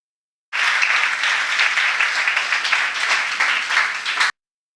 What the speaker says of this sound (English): Let us give them an applause.